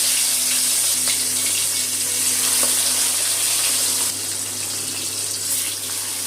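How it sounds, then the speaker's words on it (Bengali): Katla fish pieces frying in hot oil, a dense continuous hiss and sizzle like running water, close and steady, easing slightly partway through with occasional soft pops. "বাকি মাছগুলো ভেজে নেব"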